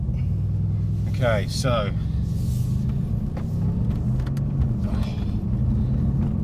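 Inside a Mercedes C63S AMG coupe on the move in manual mode, a deep steady engine rumble fills the cabin beneath a few brief spoken words and some light clicks.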